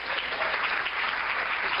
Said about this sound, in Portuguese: Dá um aplauso bem forte para a palavra do Senhor.